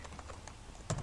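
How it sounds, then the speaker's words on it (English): Several light taps on a computer keyboard while a search entry is typed, sparse and close, ending in two louder, sharper keystrokes, with no one talking. "type in the search area"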